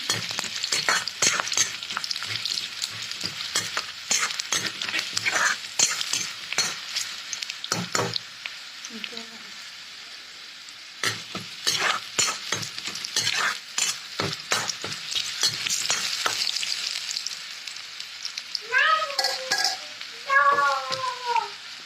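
Oil sizzles in a pan as food is stirred and fried, giving a crackling hiss with bursts of scraping, broken by short pauses, while a cat meows briefly near the end.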